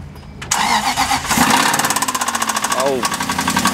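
Aston Martin V8 engine cranking and catching after a short quiet lead-in, then settling into a loud, rapid rhythmic knocking idle, recorded close by.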